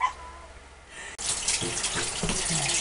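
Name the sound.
tap running as hands are rinsed at a sink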